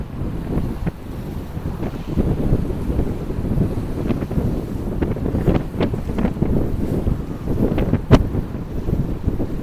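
Strong gusty wind buffets and roars across the microphone in rough weather on the Atlantic Ocean, with surging waves and occasional sharp blasts.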